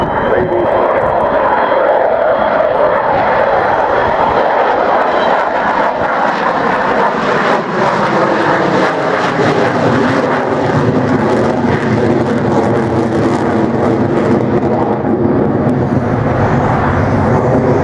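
An Avro Vulcan XH558 bomber flies at the Farnborough airshow, its engines giving a continuous loud roar that swells and shifts in pitch as it passes.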